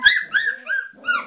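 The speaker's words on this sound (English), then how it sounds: "4 minutes of puppy fun." Three-week-old puppies whimper and whine in a litter, four high, wavering cries in quick succession, close and fairly loud, with no talk over them.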